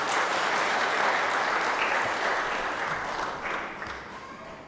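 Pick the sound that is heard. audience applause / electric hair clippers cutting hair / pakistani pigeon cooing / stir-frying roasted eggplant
audience applause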